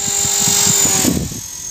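EXI 450 radio-controlled model helicopter flying nearby, a loud steady high-pitched motor whine with rotor buzz, shifting in pitch toward the end.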